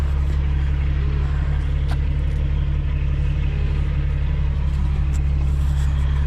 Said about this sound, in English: we filled up the Bobcat and we're ready to go